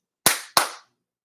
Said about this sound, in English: I thought if I clap my hands, it would turn off